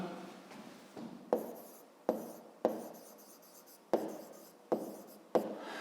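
Pen writing in a school notebook during a fifth-grade maths exercise, with short scratchy strokes and a run of sharp taps as marks are made, close and alone without talk.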